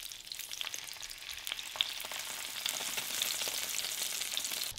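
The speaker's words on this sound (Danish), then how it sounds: "Imens fisken den står på lav varme og steger" A cod fillet fries skin-side down in a pan over low heat, giving a soft, steady sizzle with scattered crackles and pops throughout, fairly quiet and without any voices.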